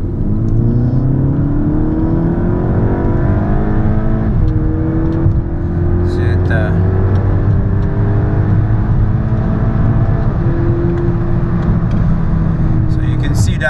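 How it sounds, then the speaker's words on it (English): 2011 Volkswagen GTI with a DSG transmission pulling at full throttle, engine pitch sweeping up repeatedly with quick gear changes between pulls, loud, steady and heard from inside the car. "So right now I'm gonna go full throttle."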